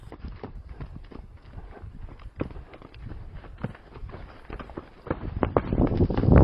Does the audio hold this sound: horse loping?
yes